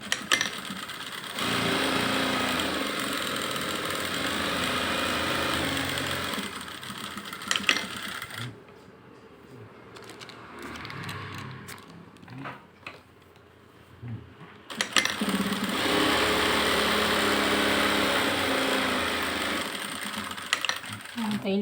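Long, steady runs of a sewing machine stitching a blouse sleeve come at the start and the end. A quieter middle stretch holds handling clatter and clicks between the bursts.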